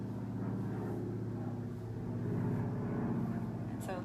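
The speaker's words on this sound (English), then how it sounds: "airplane's going over" A propeller airplane passes overhead as a steady low drone with a harmonic hum, faint and distant throughout. It sits under a quiet indoor voice speaking during a furniture painting session.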